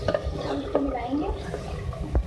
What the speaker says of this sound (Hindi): अब इसको मिलाएंगे